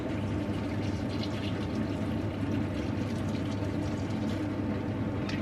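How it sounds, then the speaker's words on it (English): A litre of liquid pours steadily into a container during home cooking, making an even, continuous rushing splash that runs throughout without a pause. "I'm just going to pour in a litre of this."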